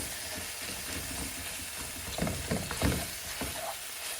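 Lamb mince frying in a pan with ginger as it is stirred, a steady soft sizzle broken by a few scraping, knocking stirs of the spoon toward the end.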